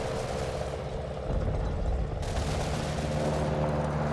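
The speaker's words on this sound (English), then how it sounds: "Looks like our scouts here are tracking small arms fire." Small arms fire crackles in a Combat Mission: Battle for Normandy battle, a continuous rattle of distant gunshots over a low engine-like rumble, growing heavier partway through.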